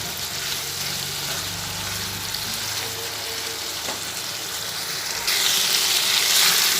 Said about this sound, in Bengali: নুন দিয়ে আবার ভালোভাবে একটু কষিয়ে নিচ্ছি